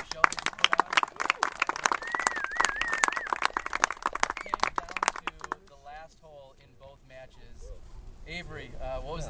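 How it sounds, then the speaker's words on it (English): Applause for the last unbeaten team at the 2011 Disc Golf Players Cup, a burst of clapping mixed with talk and crowd noise in the first half, giving way to speech. "Avery, Nate, Nico, Paul, let's give them a round of applause."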